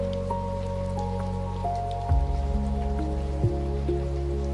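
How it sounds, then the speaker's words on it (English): Steady light rain patters on a cabin roof, soft and even, with low tonal hum and a few faint drips mixed in. "the rain keeps falling. She can hear it on the roof just above her."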